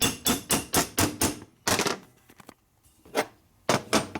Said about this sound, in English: And you go ahead and knock it out with a hammer.